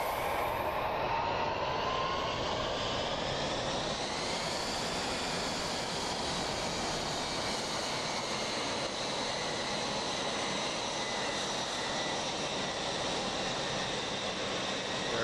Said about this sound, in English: And that should give us engine start